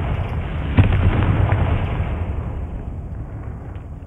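A Confringo explosion spell in Hogwarts Legacy bursts with a sharp crack, then a heavy, rumbling blast that rolls on and slowly fades over several seconds, loud and close.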